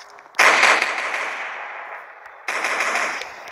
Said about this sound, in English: right now I'm gun practicing.